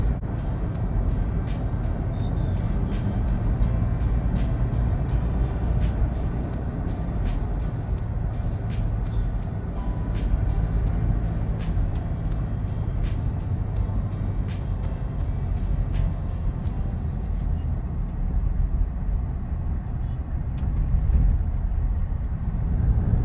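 A car drives on the old Mumbai-Pune highway with a continuous low engine and road rumble heard from inside, plus faint repeated clicks throughout.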